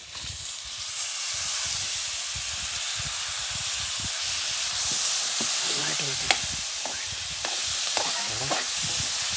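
Chopped onion and tomato fry in a pan with a steady loud sizzle and hiss while a spoon stirs and scrapes intermittently, close up.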